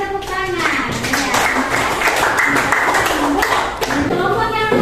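Classroom applause from students, a dense run of clapping that fills most of the clip, with voices talking over it and a short break near the end.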